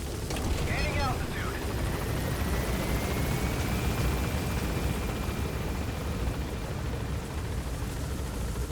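Helicopter in Metal Gear Solid V gaining altitude after takeoff, a steady broadband rotor and engine roar holding loud and even throughout with a faint rising whine above it.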